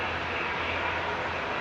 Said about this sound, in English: G2EC coming in from Larnaca now, flight 2439, 787-8 to Greenland.